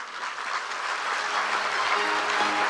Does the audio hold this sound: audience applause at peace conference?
yes